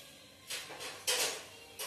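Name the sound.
adding cumin seeds to hot oil for tempering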